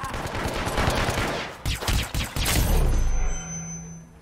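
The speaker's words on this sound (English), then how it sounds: "Gunfire." Bursts of gunfire in Hitman Absolution, several rapid volleys and crashing booms, loud and close, with a short pause before a final heavy stretch.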